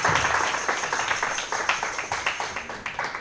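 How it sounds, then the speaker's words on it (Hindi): A church congregation claps loudly for the Lord, a dense burst of many hands that settles into a rhythmic beat of roughly even claps, filling the space throughout. "प्रभु के लिए जोर से ताली बजाएंगे और फिर बैठ जाएंगे।"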